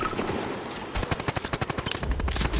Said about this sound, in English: Seeing gunfire, so I'm guessing you guys are in a fight.